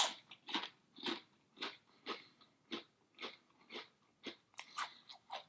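Close, steady crunching of Lay's Spanish Tomato Tango potato chips being chewed, with repeated crisp bites in an even rhythm and no talking.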